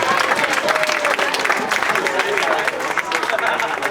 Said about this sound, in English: How about a nice big round of applause for our best man,